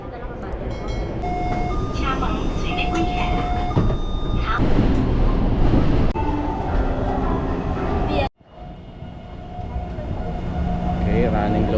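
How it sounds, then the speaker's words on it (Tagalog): Riding a train in Taiwan, with a steady loud rumble of the carriage in motion, a brief sharp break near the end, and people talking faintly in the background. "Sakay tayo ng train."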